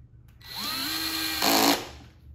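A power drill whirs up in pitch for about a second while driving a screw into a laminate-backed Y-leg flip-top nesting table, then bursts into a louder, brief grinding spin as the screw seats, close by with no talking.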